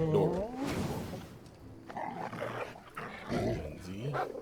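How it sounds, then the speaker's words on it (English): Dogs in a video game snarl and bark in rough, overlapping growls and yelps, loud and close, rising in repeated bursts over busy background action. "Thank God the dogs are coming in here now."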